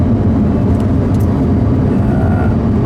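A Lamborghini Huracán LP610-4 engine is revved hard toward its rev limiter, a loud, steady, deep roar sustained without a break.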